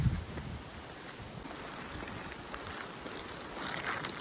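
Wind gusts through a rainy hillside in Munnar, a steady broad rushing roar with buffeting on the microphone, swelling slightly toward the end, with no voices.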